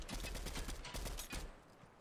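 Rapid bursts of video game gunfire fired as warning shots during solo battle royale play, steady rattling volleys for about a second and a half before fading out.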